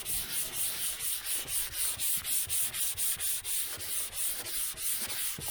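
Bondo body filler being sanded on a 1972 Chevy Nova body panel, a rhythmic back-and-forth rasp of abrasive strokes at a steady brisk pace, close and fairly loud with no voices.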